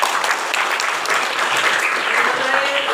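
Loud, dense applause from a large audience at a university new-student campus orientation, a continuous roar of clapping filling the whole clip with a faint voice underneath.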